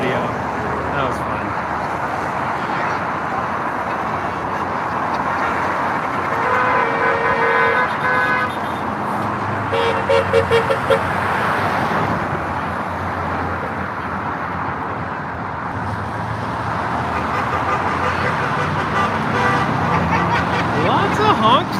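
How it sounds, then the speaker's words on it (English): Car horns honk repeatedly from passing traffic at a roadside flag wave in Ridgefield, Washington, short tooting bursts standing out over steady road noise and nearby voices talking. "Lots of honks today."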